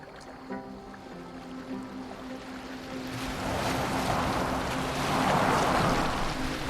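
A boat sails on the sea in Assassin's Creed Valhalla, a video game, with a low hum and soft tones at first, then a rising wash of waves and wind as the hull cuts through water, growing louder and fuller.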